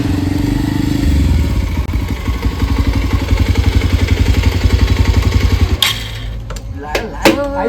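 A motorcycle's engine runs close and loud, then settles into a steady putt-putt idle before cutting off with a few clanks.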